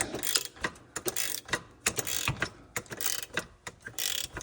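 A hand ratchet tightens the flange bolts on a catalytic converter of a 2011–2020 Grand Caravan or Town & Country, a loud close run of rapid pawl clicks in repeated bursts with short pauses between strokes.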